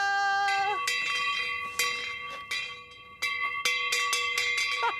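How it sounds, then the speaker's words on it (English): A hand-rung dinner bell at a coastal cottage vacation house clangs in a quick series of bright, ringing metallic strikes, close and loud, each leaving a short sustained ring. "This is a dinner bell."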